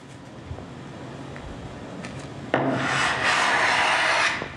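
An Axminster Rider block plane cuts down the grain of a wood workpiece: a few quiet setup noises, then a sharp onset of loud, close rasping that lasts under two seconds before stopping.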